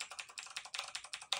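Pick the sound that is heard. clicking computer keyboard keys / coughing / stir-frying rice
clicking computer keyboard keys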